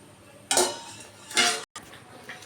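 Meat is stirred in a cooking pot, giving two close scraping, clattering strokes of a utensil against the metal with a short pause between them and no speech.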